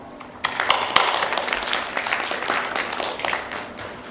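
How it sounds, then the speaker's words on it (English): Audience applause at a GEEF 2024 forum welcoming the speakers to the stage, a dense crowd of clapping that starts abruptly and holds steady at moderate loudness in a large hall. "Let's invite them with a big round of applause."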